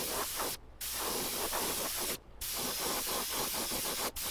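Steady hissing spray bursts from an aerosol can painting a fishing lure, broken by three short pauses, loud and close, with no talking.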